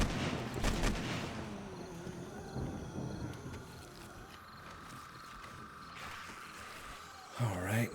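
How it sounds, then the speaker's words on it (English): AK rifle fire during a zombie horde night in the video game 7 Days to Die: a dense cluster of sharp shots in the first second, then a long rumbling wash of noise that swells again near the end. "We're gonna have to break out the AK for these guys."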